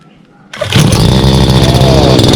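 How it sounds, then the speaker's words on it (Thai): A two-stroke brush cutter engine catches after a pull start with the choke up, jumping from near quiet into a loud, steady buzzing idle close to the mic. "ดึงโชคนี่ขึ้นนะครับ แล้วก็ทำการสตาร์ทครับ"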